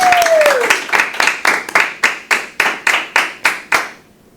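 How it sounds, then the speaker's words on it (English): A round of applause for local Milford schools rings out as about a dozen sharp, evenly spaced claps, close and loud, with a brief tone gliding down at the start. "let's give a round of applause for all the Milford schools for doing their part"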